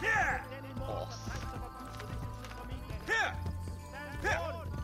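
Horse hooves clip-clopping in the Assassin's Creed Brotherhood video game, a quick rhythmic gallop with occasional whinnies and in-game effects layered over steady background music.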